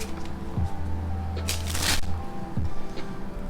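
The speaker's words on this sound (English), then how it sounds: "It's me shuffling cards." Playing cards are shuffled close by in quick riffling bursts, with two short soft thumps as the deck is squared and a crisp flutter in the middle, alone without talk.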